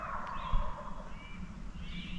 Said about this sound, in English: there's a hen right over there, sounds like